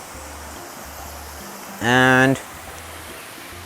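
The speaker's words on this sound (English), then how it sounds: "you can listen to the water flowing around" Water flows steadily through a creek outdoors, a continuous soft broadband rush heard nearby, with a single spoken word cutting briefly across it.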